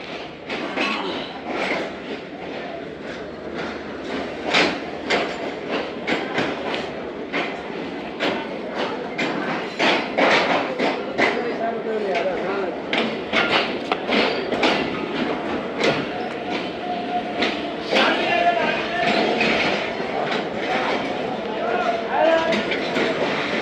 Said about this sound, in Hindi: 10:20 पर दोस्तों ट्रेन रवाना हो रही है रोडी जंक्शन से